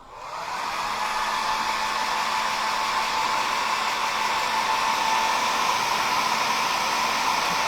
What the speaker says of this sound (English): Let me hit it with the blow dryer.